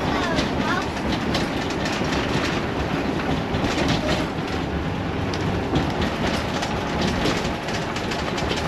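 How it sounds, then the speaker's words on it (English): Interior rumble of a Class A motorhome driving a bumpy freeway, a loud steady road roar with rattles and rhythmic jolts throughout, no talking heard. "Good old bumpy roads."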